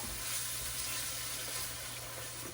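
Beef broth pours into a pot of homemade beef stew, making a steady, soft, continuous hiss and splash that stays even and close, with no one speaking.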